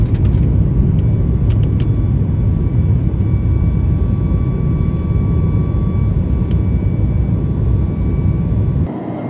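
A passenger airplane lands, heard from inside the cabin as a loud, steady engine and airflow roar that cuts off abruptly just before the end.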